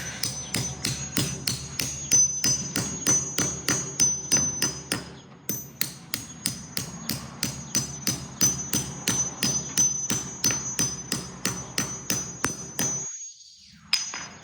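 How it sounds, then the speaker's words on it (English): A hammer strikes a metal nut held over the end of a threaded rod during a car wash remodel, giving a long steady run of sharp, ringing metallic blows at an even rhythm, close and loud, with a brief pause near the end. "So if you keep the nut hanging over, you hit the nut"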